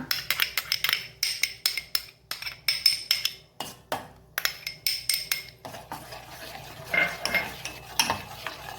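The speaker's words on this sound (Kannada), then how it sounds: "ಇದನ್ನು ಚೆನ್ನಾಗಿ ತಿರುಗಿಸ್ಕೊಳ್ಳೋಣ" A spoon stirs a carrot mixture into milk in a pot for carrot rasamalai, with a quick, regular series of close scraping strokes against the metal, two or three per second, slowing slightly toward the end.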